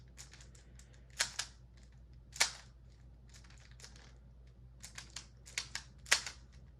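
A GAN 13 Maglev speedcube is turned quickly with corner cutting, giving sharp plastic clicks and clacks in irregular clusters, close and quiet against a low background hum.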